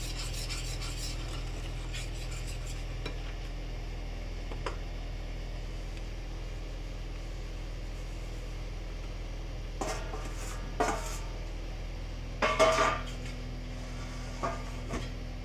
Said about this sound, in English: Don't blend too much also, otherwise your cake is going to get really mushy. So just blend it lightly.